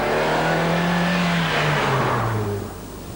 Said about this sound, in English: there's also quite a lot of engine noise, particularly when you're pressing on through the gears